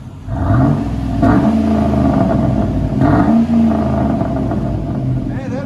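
A 2007 Chevy Avalanche 5.3L V8 with a Flowmaster Outlaw exhaust revs in repeated deep, loud surges over a steady rumbling idle, with voices talking over it.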